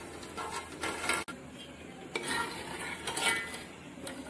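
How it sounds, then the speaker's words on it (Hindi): A spoon stirs sugar as it melts in a pan for Shahi Kimami seviyan, scraping and clinking close by with a faint sizzle underneath and one sharp knock partway through. "जब तक पूरी तरह से शक्कर हमारी मेल्ट नहीं हो जाती है तो प्रॉपर चलाते रहना है"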